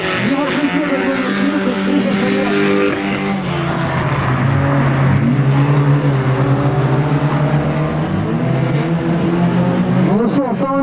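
Rally car engine starting and pulling away on a snowy winter track, a loud droning motor with rising revs and shifting tones, close by, with a commentator's voice running over it.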